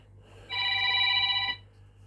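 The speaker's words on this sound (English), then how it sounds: "Stephen, that's the work phone." A work telephone rings in one steady electronic burst lasting about a second, clear and close over a low room hum, with no talk during the ring.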